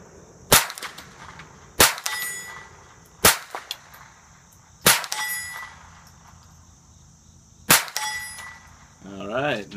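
Rounds from a Ruger 10/22 strike steel target plates. Five sharp metallic clangs ring out at irregular intervals of about one to two seconds, each with a brief ringing tail, and the shots crack faintly behind them.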